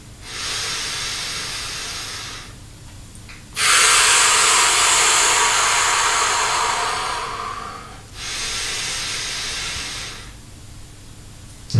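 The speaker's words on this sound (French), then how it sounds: "Tout d'abord, cherchons cette respiration haute." Strong breathing for a singing lesson, with the high chest drawn in and let out: several long, airy hisses alternate with brief pauses, the middle breath loudest and longest, all close and with no talk.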